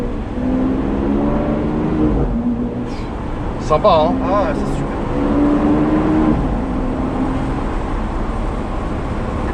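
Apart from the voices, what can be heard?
Lamborghini Aventador S engine accelerating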